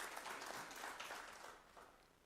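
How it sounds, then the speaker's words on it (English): Faint applause from an audience at a football coach's unveiling rises briefly and then fades, heard at a distance with no talk. "Let's clap hands for the coach."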